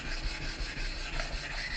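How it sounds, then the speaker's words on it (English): A larger kitchen knife is drawn across a flattened whetstone in a steady, close, even rasping rub with no pauses. No voices. "When I'm sharpening a bigger knife"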